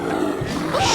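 A bear roars in The Long Dark, a low rough growl rising over a steady wind-like rumble of the game's snowy wilderness, brief and fairly loud throughout.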